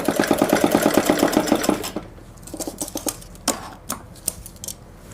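Sewing machine stitching a girl's salwar belt, a fast steady whirr of needle strokes for about two seconds, then a few scattered clicks and taps as the work is handled.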